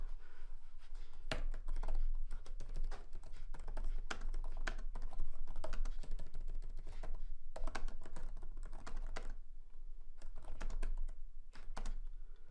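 Steady typing on a computer keyboard, rapid clicking keystrokes in uneven bursts with brief pauses, close by and with no voices.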